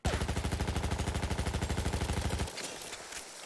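Parabellum machine gun in Battlefield 1 firing a loud, fast sustained burst of evenly spaced shots for about two and a half seconds, then cutting off into a fading echoing tail.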